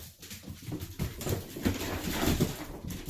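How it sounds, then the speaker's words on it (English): Dogs running around indoors, a quick patter of paws and scrabbling across the floor with small bumps, close and moderately loud. "Guys, that's my dogs running."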